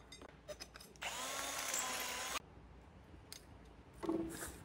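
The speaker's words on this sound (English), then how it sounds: "Now you just want to drill a hole in the firewall that size" A power drill bores a hole through a car firewall on a rat rod build, with a sustained whining burst of about a second and a half, then short tool bursts and handling noises, heard fairly close.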